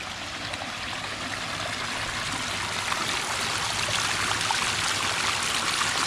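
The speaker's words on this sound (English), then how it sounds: "We actually pulled off 5 waterfalls on this little one" Water rushes steadily over a small pondless waterfall with five falls into a spillway bowl, a constant close splashing hiss with no voices.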